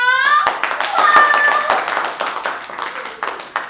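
Clapping at a departmental function welcoming a guest officer, a close burst of hand claps mixed with a ringing tone and voices, loud and uneven over a few seconds.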